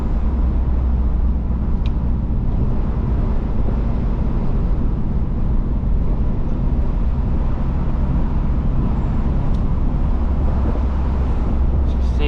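A Mazda Miata NB2 cruises along the road with a steady, loud engine drone and road rumble that holds unbroken throughout, with some wind buffeting over it.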